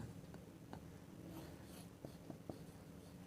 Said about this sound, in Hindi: अब देखिए पहले जो गिवन है वो लिखते हैं